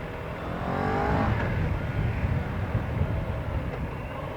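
Heavy road traffic in Istanbul, with cars and trucks passing close by as a steady rumbling roar that swells briefly near the start and then holds, with no voices.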